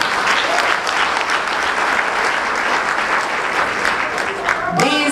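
An audience at a cash grant event for vulnerable residents gives a steady, dense round of loud applause that fills the whole stretch, and a voice cuts in at the very end.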